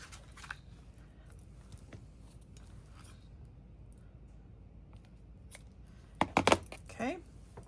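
Scissors cut ribbon for a handmade photo album: a few quick, close snips near the end, after a long stretch of near silence with faint handling noises.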